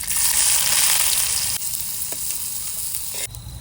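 Onion sizzles in hot oil on a Kolhapuri wood-fired stove, ready for a chicken tawa fry; a loud, steady frying hiss runs throughout with small stirring knocks.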